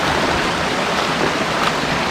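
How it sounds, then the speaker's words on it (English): A waterfall in a clear-water canyon in Bali roars steadily and loudly, a constant broadband rush of falling water close by with no voices. "we got a waterfall in the front"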